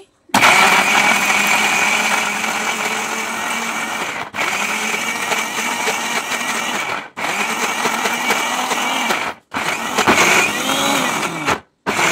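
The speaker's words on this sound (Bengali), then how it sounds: "এই মিক্সিং জারের ভিতর কিন্তু এখন আমি এই নারকেলগুলো দিয়ে ব্লেন্ড করে নিচ্ছি।" A mixer grinder jar blends spoiled coconut pieces with a loud, close, steady whirring roar, switched on and off in several long runs separated by brief silences.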